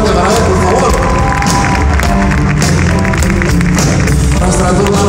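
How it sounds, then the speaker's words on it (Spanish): Concert audience at the Metropolitan theater in Mexico applauding and cheering for a performer, a loud, dense wash of clapping and crowd noise filling the whole stretch. "Un aplauso grande para él, por favor."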